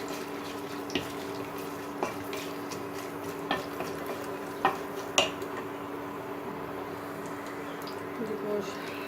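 Chilli pieces and whole garlic cloves fry in a pan for a tamarind pickle, making a steady, even sizzle with a few sharp utensil clinks and taps scattered throughout.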